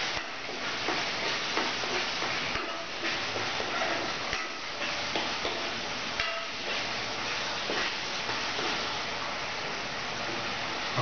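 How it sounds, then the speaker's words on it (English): Chhole masala being stirred gently in a pan, oil separating as it cooks: a steady sizzle and soft scraping under continuous frying hiss, close and moderately loud, with no talk. "We'll just give it a gentle stir."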